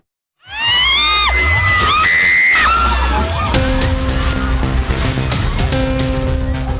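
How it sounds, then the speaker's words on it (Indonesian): Screams and panicked shouts as an ombak banyu swing ride collapses at a night market in Purworejo, Indonesia. High shrieks from many people rise over a dense, loud crowd din, followed by a crash-like burst and continuing chaotic noise. "Jeritan histeris dan teriakan panik terdengar saat wahana ombak banyu di sebuah arena pasar malam tiba-tiba roboh"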